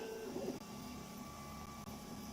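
A 3D printer runs close by in a quiet room, a steady low motor hum with a few brief tonal stepper whines near the start.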